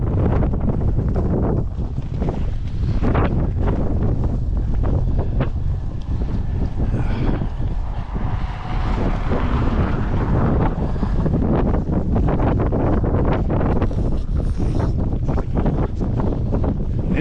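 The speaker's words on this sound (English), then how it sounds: "It cuts down the wind noise quite a bit." Strong wind buffets a camera microphone on a Montreal street the day after a heavy snowstorm, a loud, continuous rumbling roar with gusty bursts throughout.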